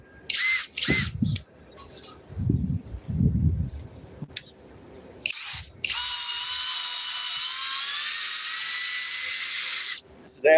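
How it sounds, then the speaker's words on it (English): Clanks and ratcheting knocks with low mumbling give way to a loud, sustained high-pitched grinding whine of a magnetic drill cutting metal at its limit, stopping abruptly. "This is absolutely the limit of this drill."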